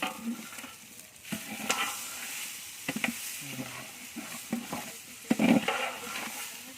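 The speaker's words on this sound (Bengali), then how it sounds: "পোলার চালটা ভালো করে ভাজা পেঁয়াজের সাথে মিশাতে হবে" Polao rice being stirred into fried onions in a pan for chicken biryani, with a steady scraping stir and soft sizzle, plus a few sharper knocks of the spoon against the pan.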